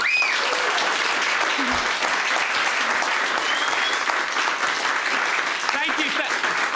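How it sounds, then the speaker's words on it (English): A studio audience on a television money show breaks into sustained, even applause that fills the room from start to finish, dense and steady without pause. "Let's give him a clap."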